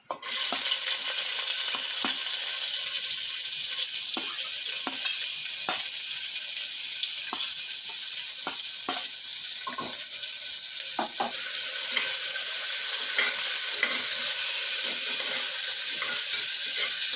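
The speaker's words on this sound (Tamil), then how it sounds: "இப்போ நறுக்கி வச்ச வெங்காயத்தை ஆட் பண்ணிக்கலாம்" Chopped onions sizzle steadily in hot oil for a foxtail millet vegetable biryani, with a constant hiss and intermittent scraping clicks of stirring.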